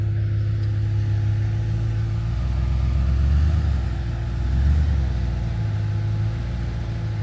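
Diesel Jeep Gladiator crawling over an off-road obstacle, a steady low engine drone with slight rises in revs, close and continuous with no voices heard.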